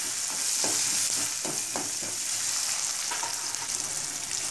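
Small shallots sautéing in a pan for a Chettinad-style goat blood fry, a steady loud sizzle broken by repeated scraping stirs, close up with no talking.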